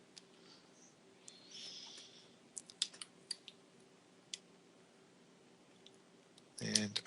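Faint, scattered clicks from a computer keyboard being typed on, a few sharp taps clustered in the middle and a brief louder burst near the end over quiet room tone.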